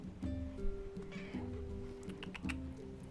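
A pet cat meows indoors with a short, rising cry, over a low rumbling purr and a steady background tone, close and fairly quiet.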